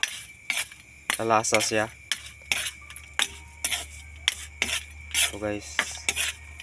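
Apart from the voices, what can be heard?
stirring food in a pan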